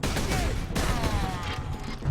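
A lascannon fires in the Warhammer 40,000: Space Marine video game: loud, dense blasts with a sharp burst near the start and another under a second later, followed by a long crashing decay.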